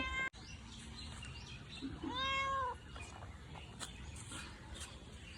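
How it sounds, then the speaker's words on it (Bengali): A single clear cat meow, close and drawn out, rises after a sharp knock at the start, over faint background noise. "বিড়ালটাকে একটু খেতে দিই দেখো কীরকম ডেকেই যাচ্ছে"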